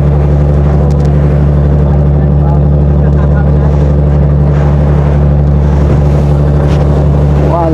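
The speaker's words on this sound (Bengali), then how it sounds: "এতটা উত্তাল পানির ভিতরে আমরা এরকম একটা ট্রলারে যাচ্ছি" A trawler motors through rough open sea with waves of five to ten feet off Sri Lanka in the Indian Ocean: a loud, steady diesel drone with constant wind buffeting and water rush throughout.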